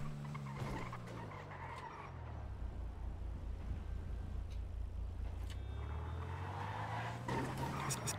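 A car engine hums steadily nearby while the car is driven, its pitch dipping and then climbing again as the engine revs, with a few faint knocks and no talk.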